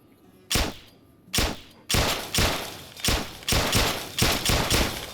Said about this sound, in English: See this is a Gauss hand cannon from sorry, not from Fallout New Vegas, from Fallout 76.